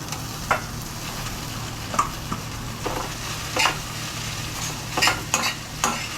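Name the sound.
stirring poha in a pan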